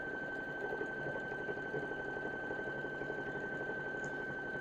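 A Baby Lock Presto II sewing machine runs a decorative stitch, giving a steady, even mechanical whir and hum that carries on without a break, close and alone.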